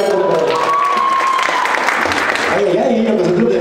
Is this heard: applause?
yes